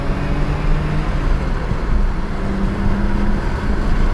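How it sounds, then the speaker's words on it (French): Car engine pulled up through the revs from inside the cabin, a loud continuous drone with rising harmonics and heavy rumbling wind noise, no talking. "on va écouter un petit peu la sonorité du moteur"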